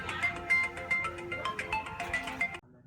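A phone ringtone plays a bright repeating melodic pattern of electronic tones, loud and close for over two seconds before cutting off abruptly, with no talk over it.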